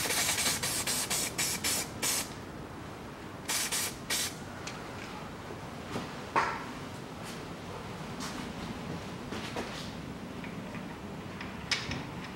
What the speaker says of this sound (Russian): Болты я смажу медной смазкой.